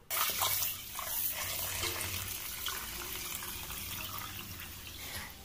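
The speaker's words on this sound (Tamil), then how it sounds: "இப்போ வந்து இதில் தண்ணி ஊற்றி ஒரு 2-3 தடவை கழுவிட்டு" Water is poured over ragi grain to wash it, a close, continuous splashing pour that starts with a stronger gush and then settles into a steady trickle.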